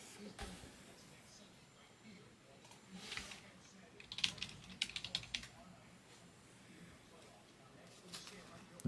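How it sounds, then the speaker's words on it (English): Keystrokes on a computer keyboard come in a short burst of clicks near the middle, fairly faint, with a person talking nearby during a sports card case break. "I'm typing it in."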